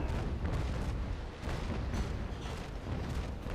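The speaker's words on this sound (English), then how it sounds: "those are carronades. Okay, bottom decks, fire!" Carronade cannons firing a broadside in the Naval Action naval battle game, a dense rumbling barrage of overlapping booms rolling continuously at moderate distance.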